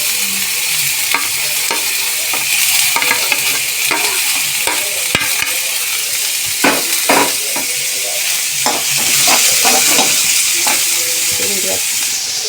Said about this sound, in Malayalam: പച്ചമുളക്, വേപ്പിലയും ഇഞ്ചി ഇതെല്ലാം കൂടി ഒന്ന് നമുക്ക് നന്നായിട്ട് വഴറ്റി കൊടുക്കാം.